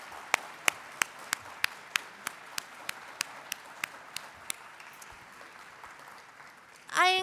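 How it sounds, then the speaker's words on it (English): Scattered claps from a lecture-hall audience after a series of science talks at a university event, about a dozen sharp distinct hits that thin out and fade, followed by a brief burst of louder noise at the end. "Will you join me in giving all of our Discovery speakers a warm round of applause?"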